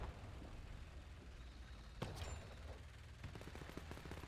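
Machine-gun fire from a StuG assault gun in the WWII strategy game Men of War II: a faint single crack, then rapid bursts of distant automatic fire at low volume.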